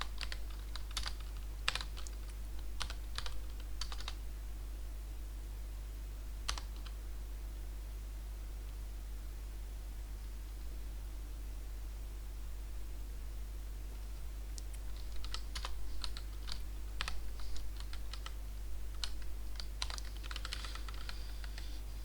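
Keystrokes on a computer keyboard come in quick clustered bursts separated by pauses, soft and close over a steady low hum, with no voices.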